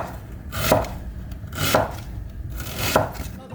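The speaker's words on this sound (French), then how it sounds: "On commence par éplucher et couper les oignons" A knife chops onions on a cutting board with three evenly spaced, crisp thuds, close and clear with no voices.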